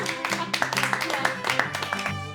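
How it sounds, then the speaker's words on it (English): A small team gives a round of applause, quick uneven claps from a handful of people close by, with voices talking over them. "Round of applause"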